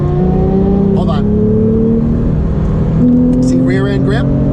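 A Porsche 911 with a manual transmission accelerating hard on a winding road, its engine droning loud and close from inside the cabin, pitch rising steadily with a brief gear change near the middle, while someone speaks over it.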